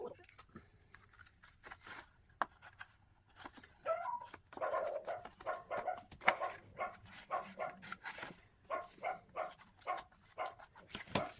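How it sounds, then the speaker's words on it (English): A puppy barks in short repeated bursts through crafting-room noise, with the barks growing more frequent and regular in the second half, fairly close and moderately loud, alongside occasional rustling and handling sounds. "I apologize for my puppy. I don't know what she's barking at."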